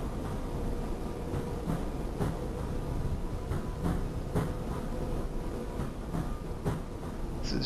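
A train in a railway simulator game runs steadily with a continuous loud rumble and periodic clicking beats from the rails, with no talk over it.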